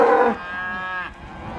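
Grazing cows: one long, loud, near moo that trails off into a lower drawn-out tail, with a fainter second call at the end and no talk.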